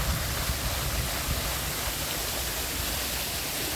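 Waterfall at the Renaissance in Florence, Alabama: a steady, dense broadband rush of falling water, constant and fairly loud throughout with no voices.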